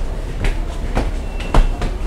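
London Underground train at a platform, its wheels giving several loud rhythmic clacks over rail joints with a rumbling hum underneath, close and prominent.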